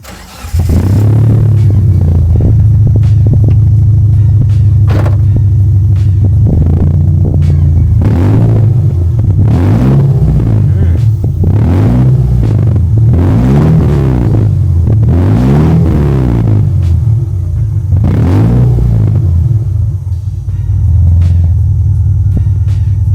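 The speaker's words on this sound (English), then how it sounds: "Let's do a rev test." A 2004 Subaru Impreza GD S203 without straight pipes starts up and is revved repeatedly, its engine rumbling loud and close, climbing and falling in several throttle blips, then settling back to a steady idle.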